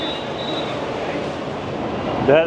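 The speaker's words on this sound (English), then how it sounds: "I'm just gonna wait for my train." An overground train in Bangkok rumbles and rolls in with a steady wash of rail noise, a brief squeal and a short voice near the end.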